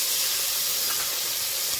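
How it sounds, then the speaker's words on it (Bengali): Water poured into a pan of lightly fried spices and oil for a vegetarian curry, producing a steady loud hiss of steam that holds evenly throughout, close with no talk. "মশলা ধোয়ার বাটি একটু ধুয়ে জল দিয়ে দিলাম।"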